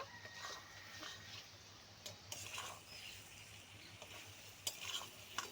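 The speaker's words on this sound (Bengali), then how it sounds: "মাছটা দিয়ে আমি কিছুক্ষণ কষিয়ে নিয়েছি, আরও কিছুক্ষণ কষিয়ে নেব।" Small mourala fish being fried and stirred with spices in a pan, a low continuous sizzle broken by scraping and clinking strokes of the spatula, heard alone at moderate volume.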